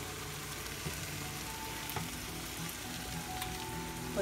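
Eggs frying in a pan give a steady, soft crackling sizzle with small pops scattered through it, continuous and fairly faint, with no speech.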